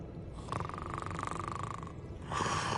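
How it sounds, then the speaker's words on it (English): Character snoring in Hogwarts Legacy, a single drawn-out nasal snore that rumbles steadily, then fades and starts again, faint and alone without talk. "Snoring."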